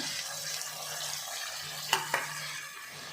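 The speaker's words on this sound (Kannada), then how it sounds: "ಈರುಳ್ಳಿ ಸ್ವಲ್ಪ ಫ್ರೈ ಆಗಿದೆ" Onions fry in a pan in a home kitchen, giving a steady close sizzle. Two sharp utensil taps on the pan come near the end, and no one speaks.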